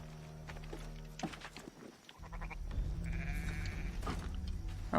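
A sheep bleats amid Assassin's Creed III game sound effects, with thuds and rustling before a few wavering bleats toward the end.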